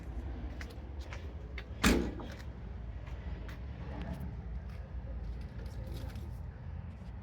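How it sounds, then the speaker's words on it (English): A laundry machine door at a Revolution Laundry unit outside a supermarket is pushed shut with a single firm thud partway through, set against a steady outdoor hum of traffic and background noise. "Right, shut the door."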